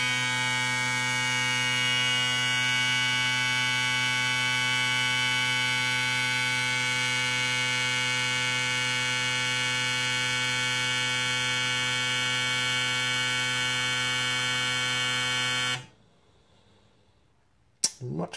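Ford 24 lb fuel injectors firing on a flow test bench at about 7000 RPM, a steady, loud high-speed buzz with no break in its rhythm, which cuts off near the end and leaves near silence.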